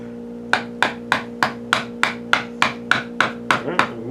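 A chisel is tapped into pinewood with about a dozen evenly spaced sharp knocks, close and crisp, each ringing briefly before the next strike.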